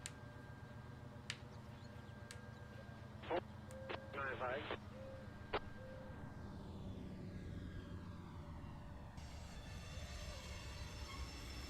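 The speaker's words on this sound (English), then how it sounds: "Listen to those flanges squeal." Steel wheel flanges squeal on a curve in the train simulator game Trainz, heard as faint high tonal squeals over a low rolling rumble. A few sharp clicks and brief tones rise above the rumble midway.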